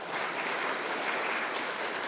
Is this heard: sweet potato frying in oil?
no